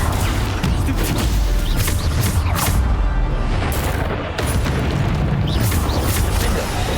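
Bombarda spell explosions in Hogwarts Legacy combat, heavy booms and crashing blasts piling up in a loud, dense stream of game action with a brief dip midway.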